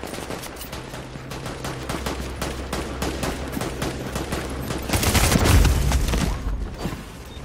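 Sustained rapid gunfire from Tom Clancy's The Division, dense overlapping bursts of automatic weapons with a heavier, louder swell near the end, no talking over it.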